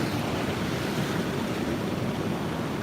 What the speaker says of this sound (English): There's a good wave coming in.